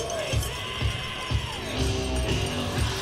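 A crowd at an outdoor ski jumping competition cheers and whoops for a jumper, a steady wash of shouts and cheers with a few louder swells and children's voices among them.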